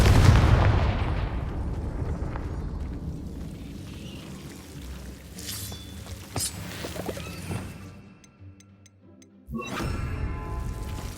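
Confringo blasting spells go off in Hogwarts Legacy, a loud burst of explosive noise up front that rumbles and decays, followed by scattered crackles, a brief lull and another sharp blast near the end.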